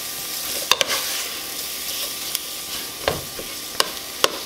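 Hot Italian sausage browning in a pan, a steady soft sizzle with scattered scraping stirs and sharp spatula knocks against the pan, close and without talk.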